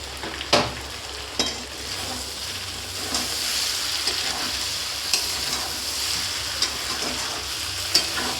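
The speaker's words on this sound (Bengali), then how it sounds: "এঁচোড়টা মশলার সঙ্গে ভালোভাবে কষিয়ে নিয়েছি" Jackfruit is sautéed with ground spices in a pan, producing a soft continuous sizzle with a handful of sharper scraping stirs spread through. No one speaks.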